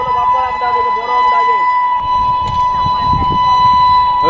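An express train, the Ganadevta Express, blows a loud sustained horn while passing Konnagar on the Howrah main line, with the heavy rumble of the train running underneath.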